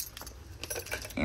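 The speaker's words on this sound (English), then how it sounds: "Grab my keys" Metal keys jangle and clink in quick, scattered bursts as they are grabbed up close, followed by a louder low rustle at the end.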